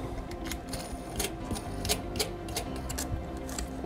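Big bolts are tightened to secure a March Networks CA2 series security camera into a ceiling tile, producing a steady run of close, rapid ratcheting clicks and small metallic ticks with no talk.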